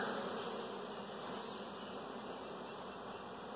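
Honey bees buzz around their hives in a bee yard: a dense, continuous drone of many insects close by, with no voices.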